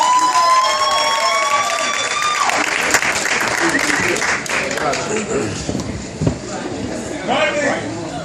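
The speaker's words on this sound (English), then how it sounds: "put your hands together for Mr. Brian Morgan" Crowd applause with scattered cheers for comedian Brian Morgan at a live comedy show, a dense wash of clapping that swells and holds throughout, with faint voices in the mix.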